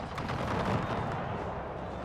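Musket volleys crackle in a Napoleonic-era battle in the Napoleon: Total War video game, with Swedish and Danish armies exchanging fire, rolling into a dense, loud burst of overlapping shots that fades into a rumbling tail.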